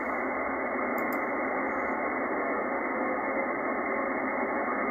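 Weak radio signal received through a FlexRadio SmartSDR with noise reduction applied, a steady band-limited hiss with faint buried tones and a brief pair of clicks near the start, continuous and even throughout.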